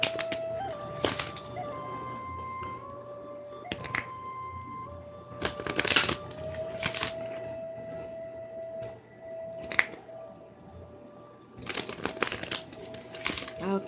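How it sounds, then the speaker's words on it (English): An Enchanted Spell Oracle card deck is shuffled by hand in several short crisp bursts of riffling and crinkling, separated by quieter pauses, with a faint steady tone in the background and no speech. "I'm going to go ahead and start shuffling."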